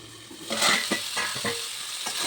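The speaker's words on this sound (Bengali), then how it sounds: "কম আছে আলু টমেটো মশলা আবার ভাজিয়ে নিলাম" Potatoes, tomato and spices fry in a pan, sizzling steadily while a spoon scrapes and stirs them in repeated close strokes.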